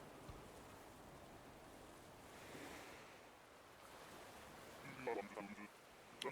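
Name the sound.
waves breaking and wind, from video game Animal Crossing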